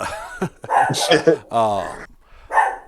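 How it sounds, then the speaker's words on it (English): A dog barks and whimpers in short, close, excited bursts, interleaved with a person talking nearby. "So my dog is losing her damn mind."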